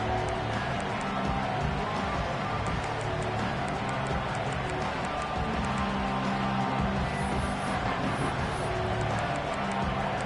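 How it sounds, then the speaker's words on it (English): A stadium crowd roars continuously in the EA College Football 26 video game, a dense, loud, steady wall of cheering that stays constant throughout. "It's early, but this crowd is fired up. Listen to this noise here."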